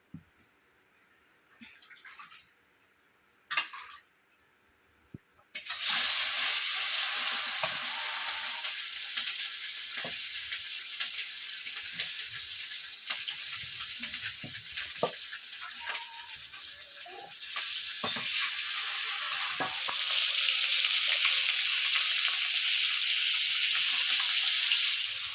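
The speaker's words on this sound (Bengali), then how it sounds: "এবার মাছগুলো ভেজে নেব।" Fish frying in a pan, probably freshly caught rui from a pond, starts with a few soft clatters, then a loud, constant sizzle that stays steady throughout and grows slightly stronger toward the end.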